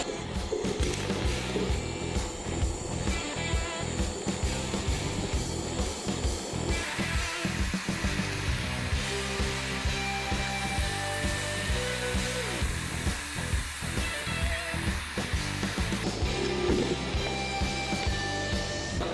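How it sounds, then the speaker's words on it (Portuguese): A Boxer Soldas Hardmig 325 Flex welder lays a scratch-start TIG root pass on carbon steel, making a continuous, even buzzing hiss that runs unbroken and fairly loud throughout. "Fiz a primeira solda de raiz no processo TIG"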